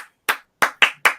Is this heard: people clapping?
yes